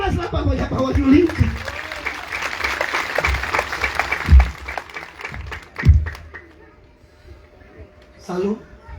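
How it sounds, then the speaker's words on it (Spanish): A church congregation in Ayacucho clapping hands along with a preacher's sermon, steady rhythmic applause under a loud speaking voice, with a few heavy thumps and the clapping fading toward the end. "Dale palmas"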